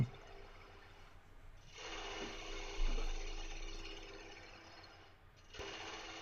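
A woodturning lathe spins a wooden bowl while a tool cuts the tenon off its bottom, producing intermittent scraping, rasping bursts of cutting noise separated by short pauses, close and moderately quiet.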